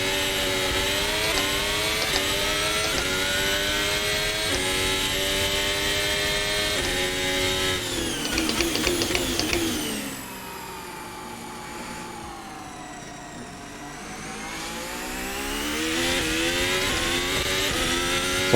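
A Formula Hybrid race car in Assetto Corsa drives on track, its engine a high, steady whine with gear changes and pitch sweeps, dropping off through a quieter lift before building again. There is no talking.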